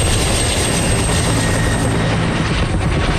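A firefighting aircraft at Cedar City Airport: a loud, steady, close engine and rotor roar that fills the whole span without letting up, with no speech.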